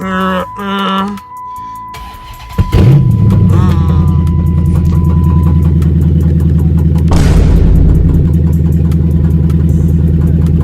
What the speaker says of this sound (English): we got the car running